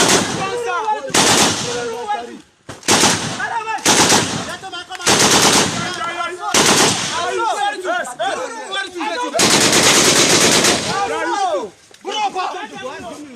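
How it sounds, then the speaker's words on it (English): Nigerian military officers firing sporadically at residential areas: loud, close bursts of automatic gunfire and single shots in irregular volleys, with short gaps and shouting voices between them. "That was Nigeria military officers shooting sporadically at residential areas"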